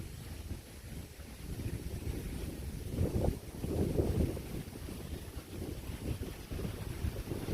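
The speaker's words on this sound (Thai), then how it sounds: "ลมอาจจะพัดแรงไปหน่อยครับผม แต่ทรายรุ้งยังสวยงามเหมือนเดิมครับผม" Strong wind blowing across a beach of rainbow sand, buffeting and roaring in uneven gusts with a low rumble, a louder surge midway, no talk.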